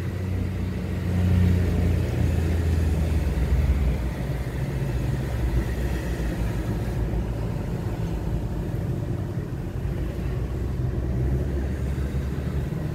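A normal truck rolls down a road at the Rolândia trench, its engine a heavy low rumble that stays steady and fairly close, with no speech over it.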